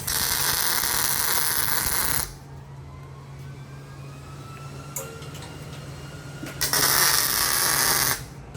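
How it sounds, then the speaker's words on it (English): Welding a steel corner on a shop-built fabrication table: two loud, steady buzzing bursts, one about two seconds and one shorter near the end, separated by a quieter stretch with a low electrical hum. "So I've welded that corner right there."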